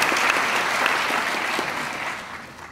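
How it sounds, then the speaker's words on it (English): Audience members at a school assembly break into sustained applause, a dense wash of clapping that stays loud before tapering off slightly at the end. "Let's give them another round of applause."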